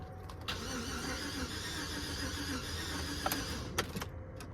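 A GMC Yukon with a crank-no-start fault, its starter cranking steadily in a continuous rhythmic whirr with a few sharp clicks near the end, heard close and fairly quiet.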